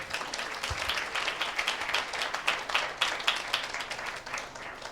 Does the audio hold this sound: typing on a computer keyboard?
no